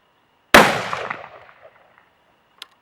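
A single loud, sharp rifle shot fired from a Caldwell Lead Sled Solo rest, cracking close by and decaying over about a second, then followed by a faint metallic click.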